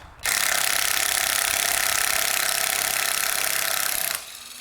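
A power tool, likely an impact wrench, runs on a bolt on a Toyota Corolla engine block, one loud continuous buzzing burst of about four seconds that starts and stops abruptly.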